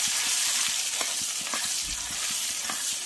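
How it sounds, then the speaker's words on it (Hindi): Ground peas fry in hot oil in a pan for matar ka nimona. A dense, steady sizzle hisses up close, broken by small crackles and occasional stirring scrapes, with no voices. "अब जो हमने मटर पीस के रखी थी, इसको पहले हम इसमें फ्राई कर लेंगे।"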